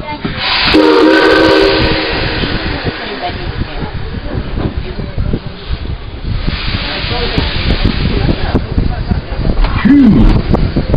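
Tweetsie Railroad coal-fired steam train running with a steady rumbling, clattering rhythm throughout and a brief whistle-like tone near the end, with voices heard at times.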